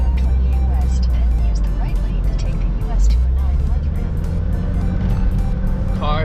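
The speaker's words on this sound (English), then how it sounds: "Car's running really good." A Saab car's engine runs steadily with a constant low rumble while driving on the road, continuous throughout with faint road noise and occasional higher sounds above.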